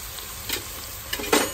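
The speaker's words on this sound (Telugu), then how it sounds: "మటన్ కొద్దిగా ఆయిల్లో 10 నిమిషాలు ఫ్రై అయినాక" Mutton fries in oil, a faint close sizzle broken by a few short stirring scrapes.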